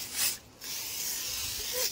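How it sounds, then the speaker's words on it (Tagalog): A handheld sprayer sends out mosquito repellent outdoors at a crab-digging spot, two close airy hissing bursts: a short one, a brief pause, then a longer steady spray. "spray tayo ng panlamok nga guys"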